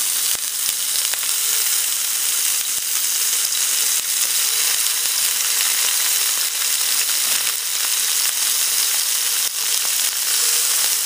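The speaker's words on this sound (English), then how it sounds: "the pan is really nice and hot. To this, I'm just gonna go ahead, and you can hear that sizzle" Loud, steady sizzling of mushroom-and-potato-stuffed meat rolls frying in a hot pan, close up, with occasional crackles and pops and no voices.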